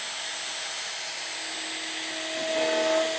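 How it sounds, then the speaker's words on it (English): A Festool vacuum hooked up to a Shaper Origin handheld CNC engraving a wooden jewelry box hums as a steady, even whoosh, with a faint motor whine rising slightly toward the end. "you need to have the Festool vac"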